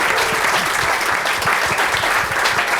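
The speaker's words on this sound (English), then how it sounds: "a big round of applause to my panel, to Ben Kay, to Daniel Gallen, and to Damian" A studio audience gives a warm round of applause for a rugby discussion panel, steady close clapping at an even loudness throughout.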